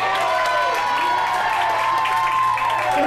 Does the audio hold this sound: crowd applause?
yes